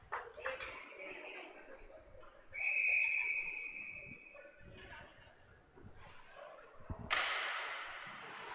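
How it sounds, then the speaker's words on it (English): A referee's whistle sounds during a high school JV hockey game between East Islip and West Islip, one sustained shrill blast amid arena noise, with a commentator talking around it. "We got the whistle."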